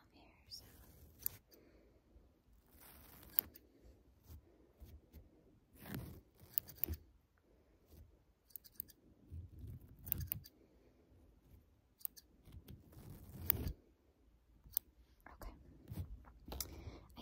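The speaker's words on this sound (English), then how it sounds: "I think we're all good to go with the scissors here." Small scissors snip eyebrow hairs close up in a scattered series of quick, crisp cuts, with soft whispering between them.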